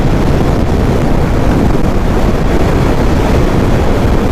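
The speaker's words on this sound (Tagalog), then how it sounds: "Saka mahangin mga sir." Strong wind buffets the microphone outdoors during a motorcycle drag race, a loud continuous low rumble with no pauses or other distinct sounds over it.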